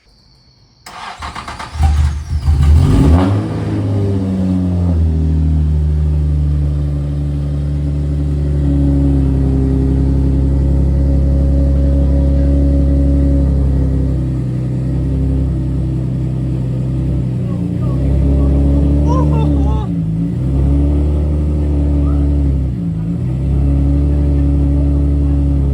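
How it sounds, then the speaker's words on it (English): A Nissan G35 after a manual transmission swap cranks briefly and fires, then settles into a loud, steady idle with a few light revs rising and falling near the end, heard up close with people talking. "I'm very excited to crank this thing up for the first time and actually try it."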